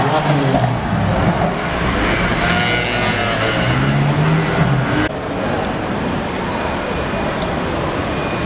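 Mazda RX-7 rotary engine on a busy London street, a loud steady roar with engine pitch sweeping up and down as it passes close by, amid dense traffic noise, dropping slightly after about five seconds.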